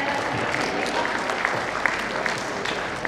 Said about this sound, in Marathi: सगळ्यांच्या जोरात टाळ्या